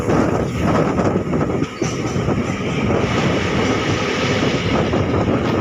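A train rumbling steadily along the rails, a loud continuous rolling roar with a brief dip partway through, no voices.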